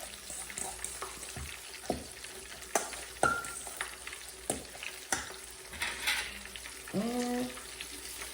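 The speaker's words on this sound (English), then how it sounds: "Mix it up like that." Sauce for a fried salmon sandwich being stirred in a bowl, with irregular scraping and tapping strokes and a faint sizzle of frying underneath, close and moderately loud with no talking.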